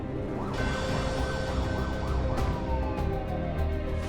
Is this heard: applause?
no